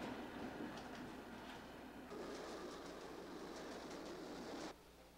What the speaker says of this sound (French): On a construit une ligne moderne de métro aérien entre la ville et les usines.